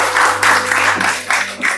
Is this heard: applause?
yes